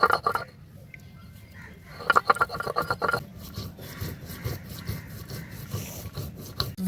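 Coriander and cumin seeds are ground into a paste on a grinding stone, giving rough, irregular rasping and rubbing strokes at close range throughout.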